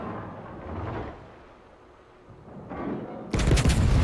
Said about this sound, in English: And I do fire one more shell at the Montana